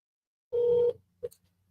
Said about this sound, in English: Alice, I'm calling Joseph